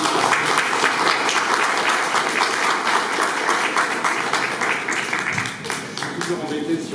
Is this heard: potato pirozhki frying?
no